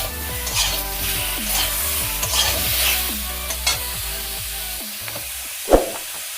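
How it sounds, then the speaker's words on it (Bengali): Onion and garlic paste fries in a wok with a continuous sizzle. Repeated scraping strokes of stirring run throughout, and a sharp knock sounds near the end. "পেঁয়াজ রসুন বাটাটা কড়াই দিয়ে দিচ্ছি।"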